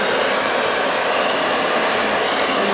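Handheld blow dryer running at full heat and full airflow during a haircut, a steady loud whooshing roar that holds evenly throughout, close and without speech.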